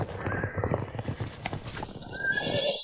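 A horse's hooves clip-clop in a steady, close rhythm, followed by a loud whinny near the end, with faint voices in the background.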